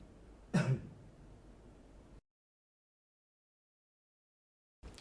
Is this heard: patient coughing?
yes